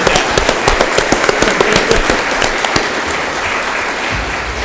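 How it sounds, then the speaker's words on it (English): A crowd at a Rotary Club school-district candidate forum applauds the panel with loud, continuous clapping full of crisp individual claps, easing off toward the close. "Please join me in a round of applause for the panel."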